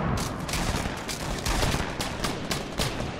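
Rapid, dense bursts of gunfire crackle loudly and continuously in a Fortnite Battle Royale 50 v 50 match, with shots overlapping in a busy, chaotic rhythm and no talking.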